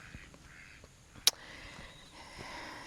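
Farm ducks give faint, scattered quacks in a quiet outdoor setting, with one sharp brief sound near the middle.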